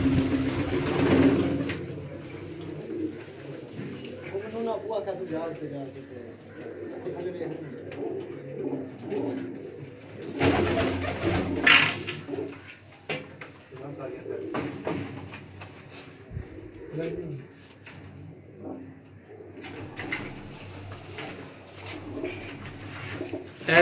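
Pigeons in a loft in Gujrat, Pakistan, coo in repeated soft throaty phrases while people talk over them, with a few bangs and a sliding, door-like clatter breaking in.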